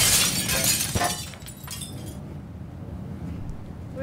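A phone hits the floor and its screen cracks with a sharp shattering, glassy crunch at the start, followed by a faint tinkle as the noise dies away to near quiet.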